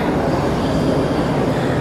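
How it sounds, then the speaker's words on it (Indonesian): A U-Bahn subway train roaring steadily at a station in Germany, a loud, continuous rumble with no pauses. "ini kereta U-Bahn"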